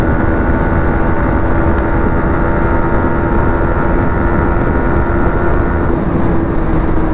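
A Yamaha MT-15 motorcycle ridden on a road while low on petrol, its engine and the rushing wind making a loud, steady drone that holds without a break and carries no talk.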